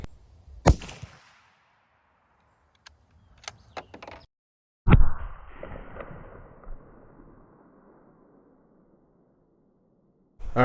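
Two sharp, loud .30-06 rifle shots fired outdoors with Winchester Super-X 165 grain Power Point hunting ammunition, the second followed by a long rolling echo, with a few small clicks between them and the start of another shot at the end.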